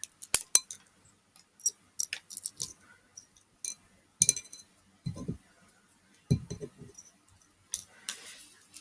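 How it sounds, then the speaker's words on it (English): A tiny piece of glass clinks against a container in several light, sharp ticks spread across the span, with soft handling noises between them and no voices. "Actually, I think I put some tiny piece of glass in here."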